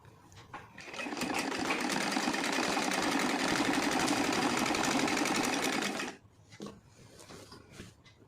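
An electric sewing machine runs steadily for about five seconds, stitching along the folded edge of a heavy silk saree with a loud, even, rapid whir, then stops, leaving faint handling clicks and rustles.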